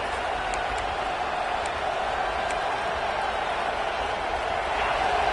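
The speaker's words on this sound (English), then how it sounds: "This crowd, full throat, splitting the eardrums and letting them know it's going to be a long day" A football stadium crowd cheers in a loud, steady, unbroken roar that fills the whole stretch, with faint higher shouts rising now and then above the mass of voices.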